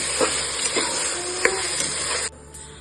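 Prawns sauté with masala in a pan, a brief, loud, close hissing sizzle with a few stirring scrapes before it drops off abruptly.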